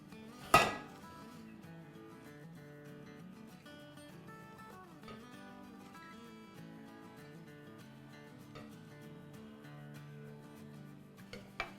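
A spoon clinks against a pot while egg and potato dum biryani is served out, one sharp knock at the start, then quiet scraping and a few light taps.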